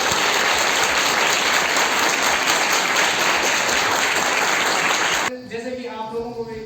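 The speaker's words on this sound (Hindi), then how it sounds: "पहले तो हम जोरदार ताली के साथ" Loud, dense applause from a crowd of schoolchildren at a forest department wildlife protection week event fills the hall steadily for about five seconds, then stops abruptly and a voice begins.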